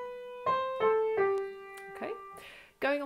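A piano plays bar 8 of the beginner piece Horse-Drawn Carriage: a short run of four or five single notes, each held briefly and sounding clearly and close by.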